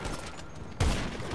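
A gunshot blast from the video game GTA Online lands loud and sudden after a stretch of steady low background noise, then rings out briefly.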